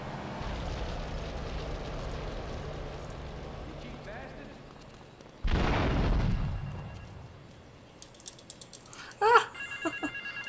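A telephone rings in Grand Theft Auto III, heard as a run of sharp, repeated ringing bursts near the end, after a loud crash-like swell and steady in-game background noise.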